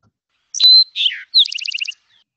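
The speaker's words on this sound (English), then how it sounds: "That was the Eastern Towhee." Eastern Towhee song, clean and close: a sharp whistled opening note, a short buzzy middle note, then a rapid bright trill, heard alone against silence.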